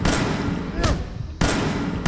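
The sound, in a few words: slow-firing pistol shots in video game Quantum Man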